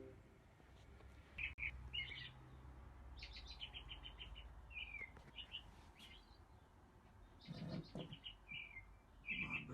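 Recorded birdsong plays from an Alexa smart speaker: faint, scattered chirps and short trilled phrases repeat over low room noise, with a few soft thumps.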